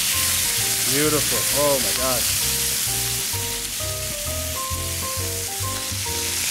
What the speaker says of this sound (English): As you can see, the crust building, that beautiful Maillard reaction happening.